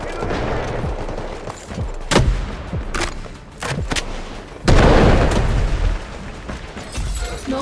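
Scattered gunshots, sharp cracks and booming impacts of a smoke barrage in Delta Force's 24-versus-24 warfare mode ring out at irregular intervals, with occasional louder blasts among quieter shooting.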